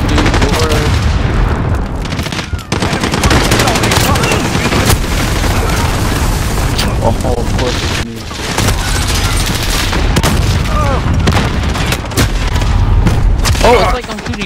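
Dense, loud gunfire and explosions fill a Call of Duty: Modern Warfare multiplayer match, with near-continuous bursts of shots and booms and brief gaps, while voices talk faintly underneath.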